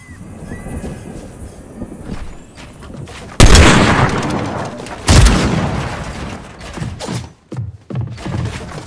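Two loud, sharp sniper rifle shots ring out in Fortnite, a video game, a couple of seconds apart, each with a booming tail and some softer game noise between them.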